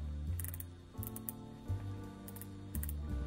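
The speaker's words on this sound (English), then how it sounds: "This knob clicks." Sharp mechanical clicks from a knob on an EPOMAKER x LEOBOG Hi75 mechanical keyboard arrive in small bursts, several quick ticks at a time, close and crisp, with a low hum running underneath.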